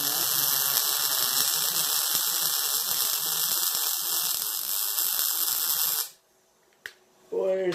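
MIG welder working on a camp table, a loud continuous crackling hiss lasting around six seconds, then it stops, with a brief click and a short mechanical sound near the end.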